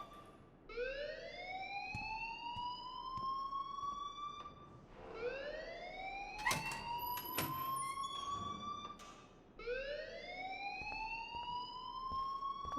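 An alarm in the Life is Strange video game wails in repeated rising sweeps, three long cycles in a row, fairly faint with some brief clanking in the middle and no talk.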